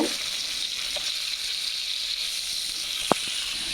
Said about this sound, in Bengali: মাছ ভাজা হয়ে আসতেছে